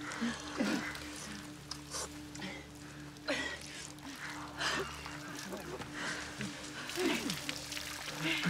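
Water pours from an outdoor faucet in a field, a soft, steady trickle heard fairly close, with brief voices and scattered noises over it.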